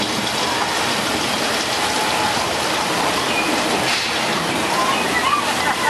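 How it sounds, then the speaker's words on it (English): At Universal Studios, thousands of gallons of recycled water released from hilltop tanks rush down in a staged flash flood, making a loud, steady, broadband roar and hiss that fills the scene. "The flood is the result of thousands of gallons of recycled water being released from tanks up on top of the hill."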